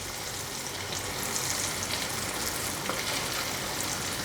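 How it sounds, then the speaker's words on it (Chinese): King oyster mushroom pieces deep frying in hot oil give a dense, even crackling hiss, close and steady for the whole stretch with no voices. "再让它炸上色"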